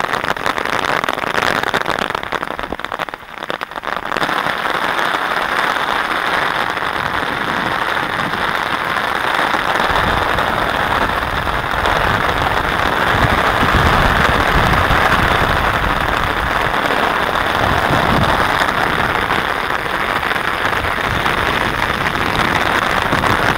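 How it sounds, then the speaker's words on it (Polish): A heavy Irish downpour drums on an umbrella beside a lake, a loud, continuous hiss of rain that briefly dips, then thickens into a dense, steady patter close by. "Dobrze, że te irlandzkie ulewy są 10-minutowe, może zaraz przejdzie."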